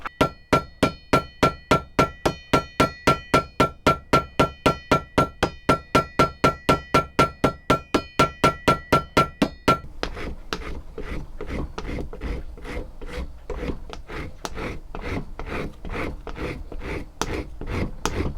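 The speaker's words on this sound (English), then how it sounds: "Put the washer on, pin those over, and then start shaping the handle." Rivets being hammered over washers on a kukri knife handle: a fast, even run of loud ringing metallic blows close by, shifting partway to duller, thuddier strikes at the same brisk pace.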